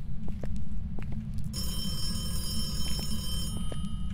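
A telephone bell rings in a building during a ghost hunt, starting about a third of the way in as a sustained bright electronic trill over a constant low rumble, with no talking.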